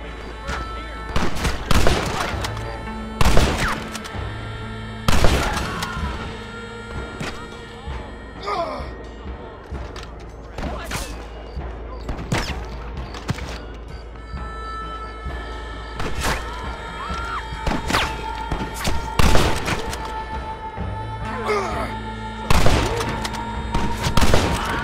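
Gunfire from a Red Dead Redemption shootout: loud, sharp shots crack out in irregular bursts across the whole stretch, with echoing tails over a steady background din.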